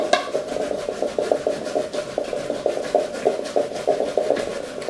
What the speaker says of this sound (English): Let's first grate a green plantain.